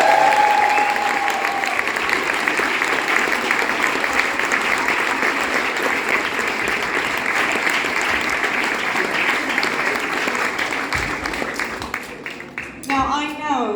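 An audience at a school assembly gives a sustained round of applause for a school band of bass, guitar, keys, vocals and drums. The dense clapping fades gradually over about twelve seconds, with a brief whistle near the start.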